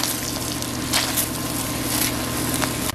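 Chopped onions, potatoes and mushrooms being stirred in a pan, a dense continuous sizzle with scraping, close and steady, alone without speech.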